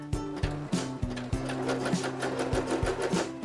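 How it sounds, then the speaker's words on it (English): A sewing machine stitches a sleeve hem, a close, steady whirring hum with evenly spaced mechanical thumps as the needle runs continuously. "I am sewing my hem at 3/8"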